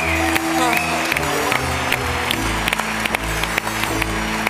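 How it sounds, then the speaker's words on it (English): Audience applause for three contestants at the 28c3 Pentanews Game Show, a steady wash of clapping with sharper individual claps standing out, mixed with a tonal jingle or music bed and some voices throughout. "Please give them a round of applause."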